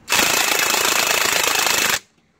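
An impact wrench fitted with an 18 socket hammers hard on a nut while loosening it during an engine and transmission job on a 2013-2015 Chevrolet Malibu LT 2.5L, one loud continuous rattling burst of about two seconds, close up, then it stops.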